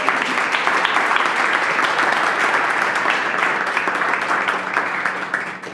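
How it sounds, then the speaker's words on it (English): A crowd applauds steadily and densely at a brewery gathering, the clapping sustained and fairly loud throughout before tapering slightly at the end. "So give yourselves a big round of applause as well."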